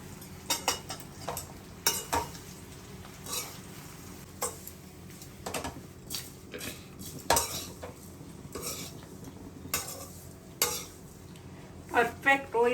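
A spoon repeatedly scrapes and knocks against a pan while bottle gourd muthiya are stirred in tempering oil, producing irregular close metallic clinks over a faint background sizzle.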